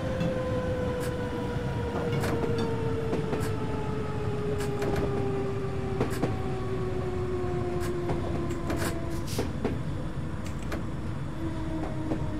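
A London Underground C69 stock train in Train Simulator 2020 runs between Wimbledon and Edgware Road, a steady loud rumble with a slowly falling motor whine and scattered rail clicks, no speech.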